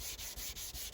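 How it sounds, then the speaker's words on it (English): Sandpaper wrapped on a sanding block rubs back and forth over a stock car body panel, a steady, close abrasive scratching in several rhythmic strokes across one second, with no voices. "just wrap the sandpaper on the sanding block and do that"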